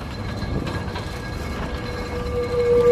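A Lisbon tram on route 28 rumbles past at very close range, a steady rolling rail noise with wheel and mechanical tones that swell and grow louder toward the end.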